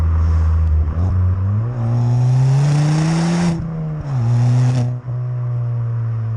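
A Mk7 Ford Fiesta ST with a 1.6-litre turbocharged engine and Stage 2 mapping at about 260 bhp revs hard and loud up close, pitch climbing through the gears with brief drops and a sharp dip between pulls.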